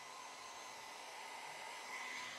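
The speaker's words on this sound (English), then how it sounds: "I didn't tape it down because the blow dryer is going to move it." A blow dryer blows air over an alcohol ink painting, giving a steady, moderately loud whooshing hiss that runs continuously from start to end with no talking.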